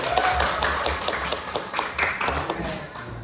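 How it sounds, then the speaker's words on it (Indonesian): A group of participants in an Indonesian sexual-harassment prevention education session claps hands in a quick, uneven burst of close, sharp claps and taps, with faint voices underneath. "Tepuk tangan dulu."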